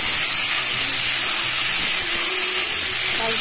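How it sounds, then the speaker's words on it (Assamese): Food fries in a pan in a home kitchen with a constant loud sizzling hiss, an even close-up crackle that holds steady the whole time without pause. "তাৰপিছত এইখিনি ভাজি ভাজি পেলাই"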